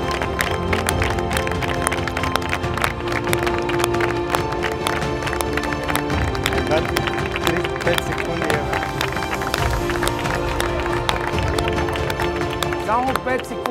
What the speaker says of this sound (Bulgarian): са силни аплодисменти за Анси и Марти!